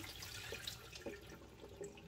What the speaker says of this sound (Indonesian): Kita siram sekali tempenya, kacang kedelainya